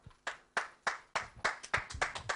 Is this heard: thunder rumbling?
no